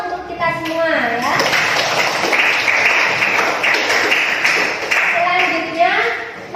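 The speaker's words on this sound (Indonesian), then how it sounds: "Kita kasih aplaus untuk kita semua ya." A class of children applauds together during an Islamic studies lesson, a dense burst of clapping lasting about four seconds, with young voices chattering just before and after.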